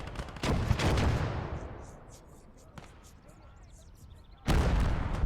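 A heavy artillery shell slams into a building in a combat video game, a loud booming impact near the start that rolls off into a long fading rumble, with a second sharp blast bursting in near the end.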